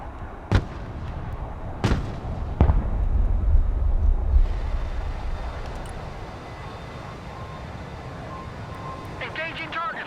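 Direct-fire artillery explosions in the Broken Arrow video game, three sharp cracking blasts early on followed by rumbling low fire, with someone talking over the battle.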